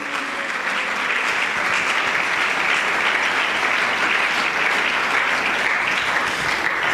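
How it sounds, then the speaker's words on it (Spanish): Loud, sustained applause from a large church congregation at a Sunday school service, steady and dense from start to finish with no voices over it. "dele aplausos a la gloria de Dios."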